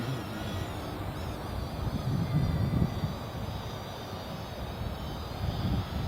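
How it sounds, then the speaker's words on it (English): Strong outdoor wind buffets the microphone in a steady roar while a small JXD 515W mini quadcopter flies on a breezy day. The gusts swell slightly at times. "It's pretty breezy today."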